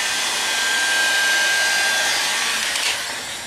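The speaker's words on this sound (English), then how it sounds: "then you go over it with the heat gun" A heat gun blows hot air over Evazote EVA foam being shaped after edge grinding, giving a steady airy hiss with a faint whine, alone and without talk, dropping off slightly at the end.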